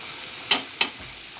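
Ginger-garlic paste and chilli powder fry in a pan for a pangas fish curry, a low steady sizzle broken by two quick bursts of loud spattering hiss.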